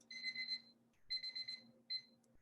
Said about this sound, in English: And there's my timer.